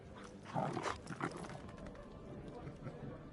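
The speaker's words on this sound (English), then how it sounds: "Look, he makes dog noises." A dog in the video game Thronebreaker: The Witcher Tales makes a few short snuffling, whining noises when petted, close and brief, with a person speaking over it.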